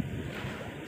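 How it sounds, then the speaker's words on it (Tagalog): Sea waves wash against the seaside at Kennedy Town on a windy, cool evening, a steady broadband rush with wind buffeting the microphone, continuous and close, no talking. "Super alon. Alon siya."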